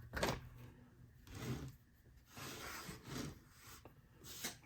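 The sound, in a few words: trowel smoothing casting sand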